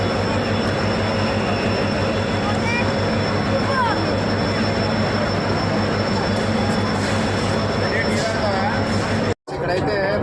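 An underground metro train in Chennai rides along with a loud, steady rumble and whine that lasts throughout, broken by one brief dropout near the end. Faint voices are present in the background.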